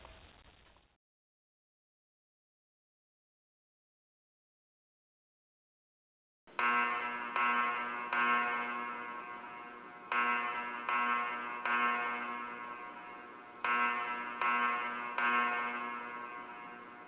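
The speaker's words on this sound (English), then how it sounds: "Why are the alarms going off?" Emergency alarm blaring in a winter-storm disaster scenario: after a brief faint sound and several seconds of silence, a loud buzzing alarm tone sounds in repeated bursts, each decaying slightly before the next restarts.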